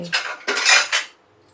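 Payasam with cashews is stirred in a pot, with a spoon scraping and clinking against the metal in three quick close bursts that then fall quiet.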